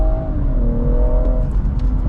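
A 2017 BMW 440i Gran Coupe F36 with a Stage 1 tune pulls hard in a loud, close, steady drone, its engine note climbing smoothly in pitch as the car accelerates.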